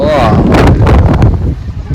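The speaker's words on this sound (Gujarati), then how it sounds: "પવન બહુ આવે" Strong wind buffets the microphone in loud, rumbling gusts, roaring steadily before easing slightly toward the end.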